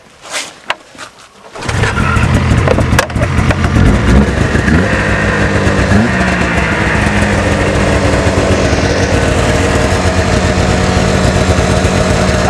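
A snowmobile pull-started from cold, first a few sharp pulls and clatters, then the engine catches and roars into a loud, steady high-pitched idle with slight wavering, close by and running without talk.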